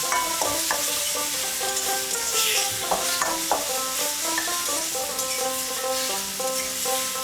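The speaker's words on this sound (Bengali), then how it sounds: "চিংড়িগুলো আমার ভাজা হয়ে গেছে, তুলে নিচ্ছি।" Continuous sizzling of prawns frying in oil in a pan, mixed with frequent stirring and scraping, while faint music plays underneath throughout.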